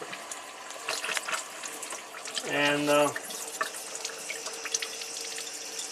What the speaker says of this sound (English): Gonna open up the water